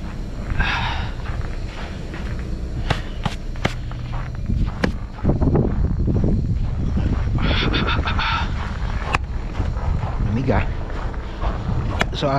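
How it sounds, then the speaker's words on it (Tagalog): Strong, cold, gusty wind in Canada buffets the microphone in loud rumbling bursts, with footsteps and occasional sharp knocks, and a person talking now and then. "Medyo malakas yung hangin, saka malamig"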